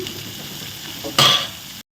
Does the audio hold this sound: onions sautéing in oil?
yes